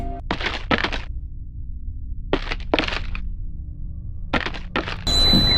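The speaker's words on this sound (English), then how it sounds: "the thump and drag of your wife's gimp leg," Heavy thump-and-drag footsteps of a limping leg in the horror game Layers of Fear, three separate pairs of loud close thuds with scraping, spaced by quiet pauses over a low steady hum.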